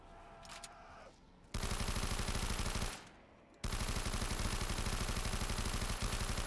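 LSAT light machine gun in Black Ops 3 firing two loud, rapid sustained automatic bursts, the first about a second and a half long, then a brief pause and a longer second burst, each shot evenly spaced.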